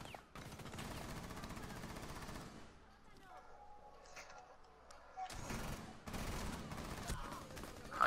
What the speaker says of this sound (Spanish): te dispara el de atrás